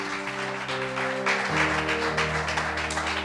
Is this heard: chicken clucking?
no